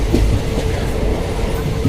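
Steady low rumble and rattle of a train rolling along the tracks, heard from inside, constant and fairly loud with faint rhythmic clacking.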